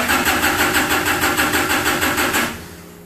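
A project car's engine cranks repeatedly on the starter button in a steady rhythmic churn, loud and close, for about two and a half seconds before cutting off without catching.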